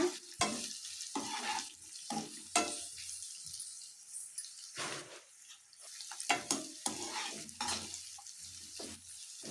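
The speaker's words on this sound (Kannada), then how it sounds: "ಸ್ವಲ್ಪ ಗೋಲ್ಡನ್ ಕಲರ್ ಬರೋವರೆಗೂ ಈರುಳ್ಳಿ ಚೆನ್ನಾಗಿ ಫ್ರೈ ಮಾಡಿ" Sliced onions fry and sizzle in a pan while being stirred, with irregular scraping strokes and bursts of crackling close by; no one speaks.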